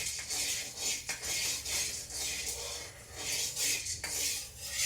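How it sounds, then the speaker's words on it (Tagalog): A ladle scraping and stirring food in a home kitchen pan, a steady series of close metallic rasps and clinks repeating in uneven strokes, with no talk over it. "Halo kayo ng sandok, parang nagsasangag ako."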